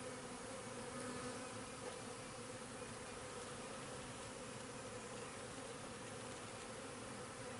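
Honey bees buzz during a hive inspection, a dense, continuous swarm drone, fairly soft and steady, with no voices.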